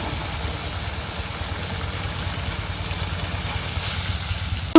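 Ginger paste is added to a pan already holding cardamom, cloves and onion-garlic paste, and it sizzles steadily at close range with an even, unbroken hiss.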